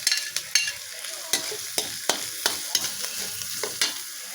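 Garlic sizzles in hot oil in a pan while being stirred, with a spatula scraping and clicking in a quick irregular rhythm over a steady bright frying hiss, close and fairly loud.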